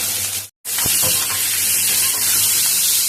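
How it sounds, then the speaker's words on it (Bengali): Mango pieces coated in salt and turmeric fry in a pan of oil tempered with five-spice and dried red chillies, giving a loud, steady hiss after a brief silent gap, with a few faint clinks. "এবার আমি আমগুলো নুন হলুদ মাখিয়ে ছেড়ে দিচ্ছি, এগুলোকে একটু ভেজে দিচ্ছি"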